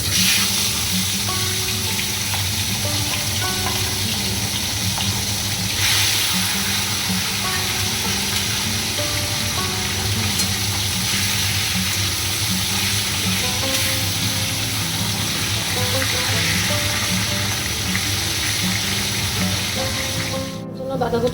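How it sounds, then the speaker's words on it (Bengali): Fish fries in a wok on a gas stove, giving a dense, continuous sizzle that stays loud and steady throughout, with faint kitchen clatter beneath it. "এই পাশের গ্যাসে নিয়ে এসে আমি আরেকটা কড়াইতে মাছ বসিয়ে দেবো"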